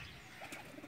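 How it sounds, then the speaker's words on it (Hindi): A Rampuri flying pigeon coos close by, a short soft murmuring call over a faint background hum. "रामपुरी कबूतर है जी"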